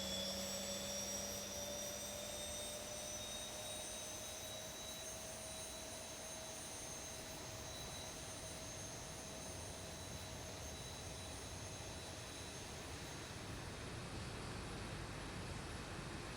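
A simulated jet engine in the X-Plane 11 flight simulator starts up, a steady whining spool-up with high sustained tones over a constant broadband rush, fairly faint and unbroken for over fifteen seconds.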